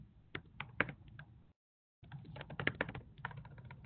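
Fingers tapping out a message on a computer keyboard while composing an email, quick irregular clicks in two bursts split by a brief silence, close and clear with no talk.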